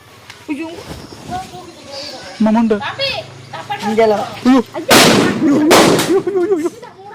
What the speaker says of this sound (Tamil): வெடி கொளுத்து நிகழ்வு